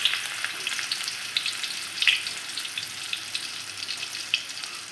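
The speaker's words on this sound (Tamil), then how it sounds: "முதல்ல வந்து இஞ்சி பொரிச்சுக்க போகிறேன்." Long strips of ginger fry in hot oil for a chicken kicap dish, giving a steady, close crackling sizzle scattered with sharp little pops, with no one talking.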